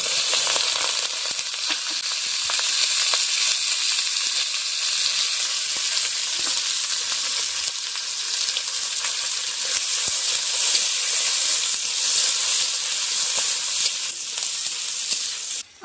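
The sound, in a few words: frying onions with whole spices, bay leaf, dried chilli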